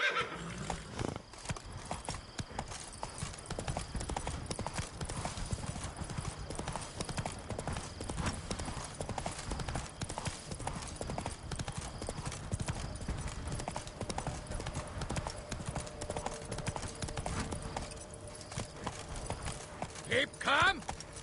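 Horse hooves clip-clop steadily at a gallop in The Witcher 3, with a whinny and a voice speaking over the continuous rhythmic beat.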